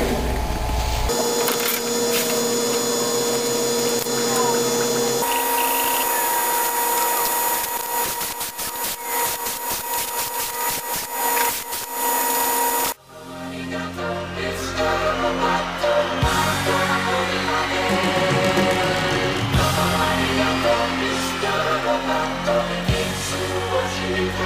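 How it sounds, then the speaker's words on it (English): A ShopBot, a large CNC router, cutting boat hull pieces from flat plywood sheets, a loud continuous machine whine and grinding roar with shifting tones and a brief dip partway through, no talking. "I'm going to use it to cut out the hull pieces from flat pieces of plywood."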